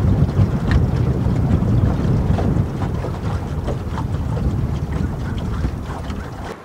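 Fishing boat moving slowly across a reservoir lake on a trolling motor, a steady low rumble of motor, water and wind buffeting the microphone throughout, close and fairly loud with no talking.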